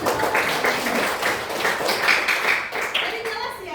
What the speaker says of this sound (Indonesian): Oke, berikan aplaus untuk